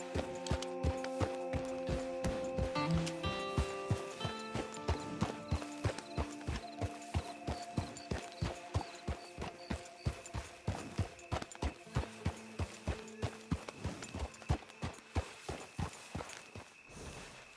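Horse hooves clip-clop in a steady, even rhythm throughout, over a musical backdrop, in the video game Red Dead Redemption 2.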